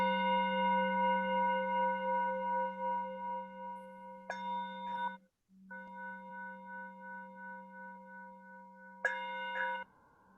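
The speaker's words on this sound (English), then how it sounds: "I'm going to go ahead and ring our bell." A meditation bell is struck twice, each strike ringing out in a clear, sustained metallic tone that slowly decays, the second strike coming after a short pause and sounding sharper and brighter.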